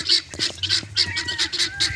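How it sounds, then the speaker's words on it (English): A noisy bird outdoors at a fox and coyote trapping site gives a rapid series of harsh, goose-like honks, about eight calls in two seconds, fairly close and loud with no talking. "Oh, here comes the annoying bird."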